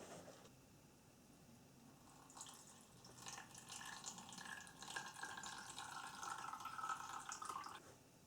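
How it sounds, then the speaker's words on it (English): Red cochineal water strained from a pan into a jug, a very quiet trickle and pour of liquid that builds over several seconds, with soft splashy drips near the end. "take our pan of beautifully red cochineal water there and strain through into the jug"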